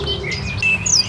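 A fighter songbird in a hanging cage gives several quick, thin, high chirps over a low background rumble, each tweet brief and fairly close.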